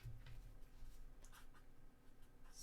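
A note is written by hand, very faint scratchy pen strokes in short uneven bursts against a quiet room hum, with no talk during the writing.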